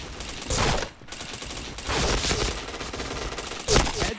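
Bursts of video game gunfire crack in dense, loud clusters, with a few sharper shots near the end and brief gaps between volleys.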